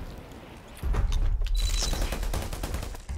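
A loud burst of sustained automatic gunfire in Predator Hunting Grounds starts abruptly after a quieter moment and rattles on in rapid repeated shots, with faint game sounds underneath.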